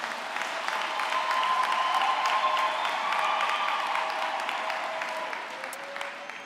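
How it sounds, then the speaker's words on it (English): Sustained audience applause fills a university graduation ceremony hall, steady dense clapping from a large crowd that holds loud throughout and eases slightly toward the end. "Can we kindly give them a rapturous and ecstatic round of applause?"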